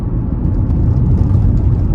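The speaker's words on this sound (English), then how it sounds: "Most cars, you can hear the road noise on this road here because it is so rough." Continuous deep road rumble inside a 2004 Honda CR-V LX rolling over rough pavement, a steady dense drone with no talking.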